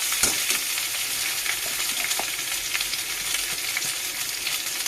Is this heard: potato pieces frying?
yes